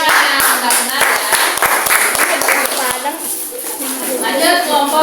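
Children clapping in a classroom during a primary science lesson, sharp irregular claps that thin out after a few seconds, mixed with chatter and classroom noise.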